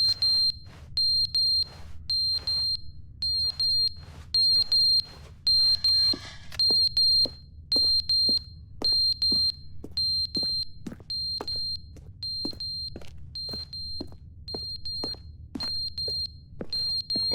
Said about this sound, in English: Oh, it's the fire alarm.